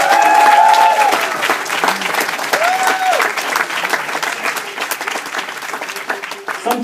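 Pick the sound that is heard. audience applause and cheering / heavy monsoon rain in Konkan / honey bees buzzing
audience applause and cheering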